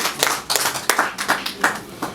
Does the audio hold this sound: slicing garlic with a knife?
no